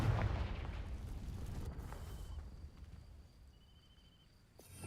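A booming Confringo fire spell blast from Hogwarts Legacy erupts loudly at the start, then rolls off into a fading rumble with faint lingering crackle.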